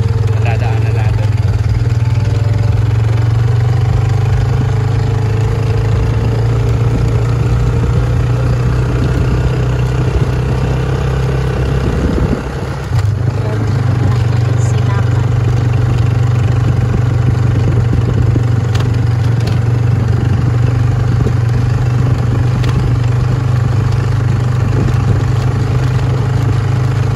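A heavily loaded motor boat's engine drones steadily at a low, even pitch, loud and close, running continuously at sea with occasional clatter and faint talk over it.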